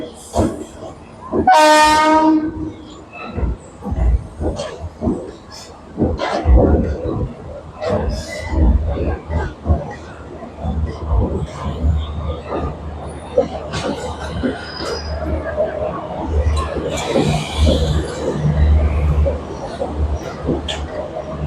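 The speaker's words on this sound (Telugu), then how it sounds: "సో మీకు యూత్ ట్రాక్ పైన ఇంకొక ట్రైన్ వస్తుందండి, గూడ్స్ వస్తుంది" A goods train's horn sounds briefly, then a long rumbling of wagons rolling along the track with rhythmic clacking, and people talking now and then.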